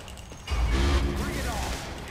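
A burst of blaster fire in Metroid: Other M erupts with a loud booming volley and echoing impacts that hold for over a second before fading into rumble.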